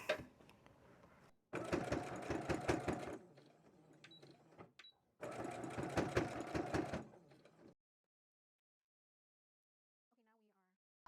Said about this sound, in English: we're going to just sew this right across right now.